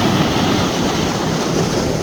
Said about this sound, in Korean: 파도 소리 보세요 파도 이렇게 예, 이렇게 부서지고